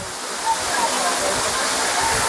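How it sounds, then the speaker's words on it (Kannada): Iruppu waterfall pours with a steady, forceful roar of rushing water, a dense continuous wash that stays loud and close throughout. "ಈ ನೀರಿನ ಸೌಂಡಲ್ಲಿ ನಾನು ಮಾತಾಡೋದು ಏನೂ ಕೇಳಿಸ್ತಾ ಇರಲಿಲ್ಲ, ಅಷ್ಟು ಫೋರ್ಸಾಗಿ ನೀರು ಬರ್ತಾಯಿತ್ತು."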